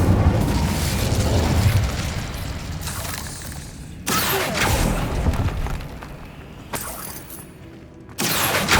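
A fire spell blasts in Hogwarts Legacy, a burst of roaring flame with booming impacts in several loud surges over a continuous game soundscape.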